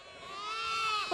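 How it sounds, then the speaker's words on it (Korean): Mother ewes that have recently given birth bleat in a single drawn-out, wavering call, close and fairly loud, rising toward the end with no talk over it. "출산한 지 얼마 안 된 어미 양들입니다."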